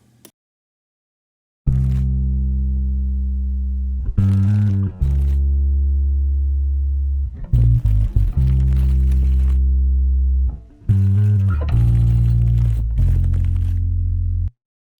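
A gated recording triggered by a bass guitar, emulating the buzz a snare makes when a drum kit is excited, gives loud sustained low tones that start and stop abruptly in several bursts, with crackly, buzzing edges between them.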